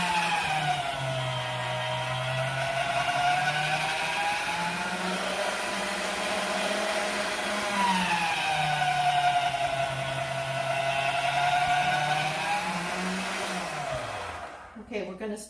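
Electric pasta machine runs steadily, its motor drone wavering slightly as homemade dough is rolled through, loud and continuous for most of the stretch before winding down near the end.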